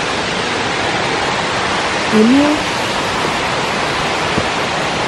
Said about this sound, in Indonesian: air yang mengalir ke air terjun Bidadari